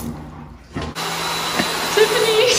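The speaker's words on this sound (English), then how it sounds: "The dryer just went off." A bathroom hand dryer kicks on suddenly after a quiet moment with running water nearby, then blows with a loud, steady rushing roar.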